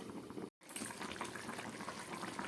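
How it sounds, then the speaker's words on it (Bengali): Potato curry (aloo dum) boiling in a pot, a steady close bubbling and gurgling that drops out for a moment, then resumes. "আলুর দমটা একদম ফুটে উঠেছে"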